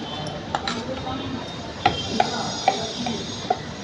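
A spoon stirs sweet raw mango pickle in a container, producing sparse, sharp clinks and taps at irregular intervals over a quiet background.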